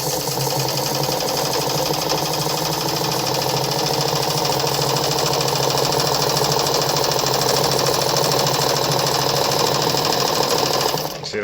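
A Meister Werke German sewing machine stitches continuously at high speed, a loud, close, steady mechanical whir and rapid needle chatter that runs unbroken before stopping abruptly at the end.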